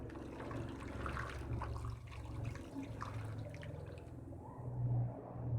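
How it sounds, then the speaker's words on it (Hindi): Garlic water poured into a pot of beef while cooking an Eid beef curry, a steady splashing, gurgling stream close by that swells briefly near the end, with no voices. "अब ये लहसुन वाला पानी जो इसमें शामिल करेंगे।"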